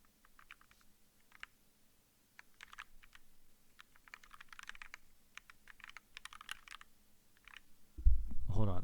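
Rapid typing on a mechanical keyboard with lithium-greased hot-swap switches: close, crisp clacks in quick uneven bursts, then a loud low thump at the very end.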